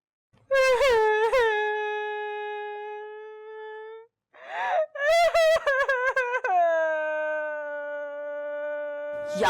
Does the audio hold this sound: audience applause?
no